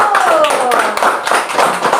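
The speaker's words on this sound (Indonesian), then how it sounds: "tepuk tangan buat kelompok 1" A group claps continuously, a dense patter of applause close by, with voices mixed in.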